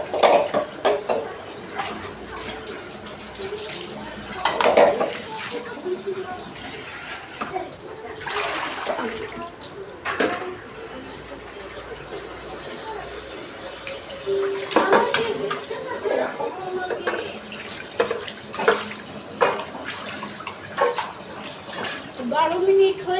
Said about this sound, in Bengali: বাসন মাজার হয়ে গেছে